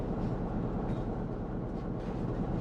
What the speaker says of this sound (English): You can hear another train.